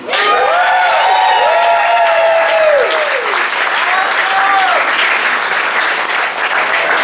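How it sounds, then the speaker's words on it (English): Wedding guests clap loudly and steadily after a toast, with whoops and rising cheers riding over the applause for the first few seconds before settling into sustained clapping. "let's have a big round of applause, everybody."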